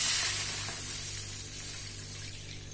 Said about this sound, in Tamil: இப்போ அதே பேன்ல 1 கப் ரவைக்கு 3 கப் தண்ணி சேர்த்துக்கிறேன்.